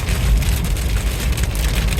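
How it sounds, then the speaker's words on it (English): Heavy monsoon downpour in hot weather, a dense continuous hiss of rain drumming on surfaces with a deep low rumble, loud and close with no voices. "We're in a storm! The monsoons are beginning."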